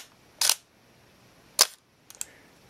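A Minolta X-700 film SLR fires its shutter at a one-second speed: a sharp open click, then a second close click about a second later, followed by two faint mechanical ticks. Close, quiet room, no talk.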